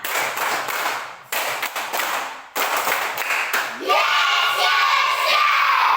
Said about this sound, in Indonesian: Tiga kali tepuk semangat.